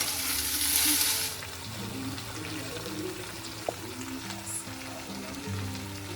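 Mushrooms frying in a pan for dry chilli mushroom, a steady close sizzle with occasional stirring, a brief watery rush at the start and a single sharp knock partway through.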